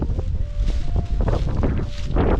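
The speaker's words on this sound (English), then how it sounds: "It's really, really windy today." Strong wind gusting outdoors at a wooded rural cabin site, a loud steady roar of buffeting with no speech.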